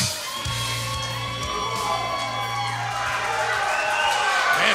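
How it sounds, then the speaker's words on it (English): A crowd at an independent wrestling show cheers, whoops and yells without letup for a wrestler arriving at ringside, a dense roar swelling toward the end, with entrance music droning underneath. "Crowd goes crazy over Marco."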